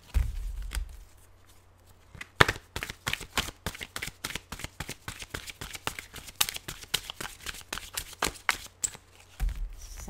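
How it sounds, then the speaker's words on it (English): A long run of rapid, crisp tarot card snaps and flicks during shuffling, close up, steady for several seconds with brief soft thumps at the start and end. "I'm just going to finalize this shuffling here for this new card"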